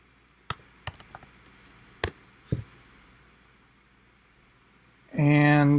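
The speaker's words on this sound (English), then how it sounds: "I'm going to type in my password" A handful of sparse, crisp key clicks on a computer keyboard while a password is typed, spread over a few seconds in a quiet room, before a voice starts at the very end.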